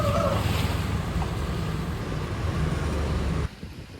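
Rough sea waves rolling in at Licuson Beach in Masbate, a loud continuous wash of surf mixed with gusting wind buffeting the microphone, cutting off abruptly near the end.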